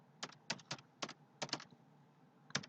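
Short bursts of crisp key clicks come from a computer keyboard as a file name is typed, in quick clusters with brief pauses, close and fairly quiet.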